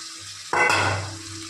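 Pieces of fish drop into boiling potato curry, one sudden splash and a short burst of bubbling that fades over about a second.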